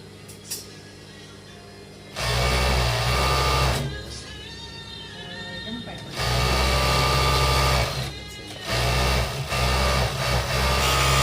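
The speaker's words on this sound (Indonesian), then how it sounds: "Nah kita sudah ke mesin obras ya teman-teman." An overlock serger machine stitches fabric edges for a Kasumedangan garment, running in three loud, steady mechanical bursts separated by short pauses with faint talk.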